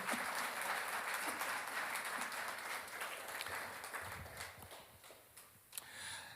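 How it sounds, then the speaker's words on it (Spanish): Church congregation applauding during a Spanish-language Easter service, dense sustained clapping that stays steady and fairly distant, then thins and fades toward the end. "dale un fuerte aplauso al Señor"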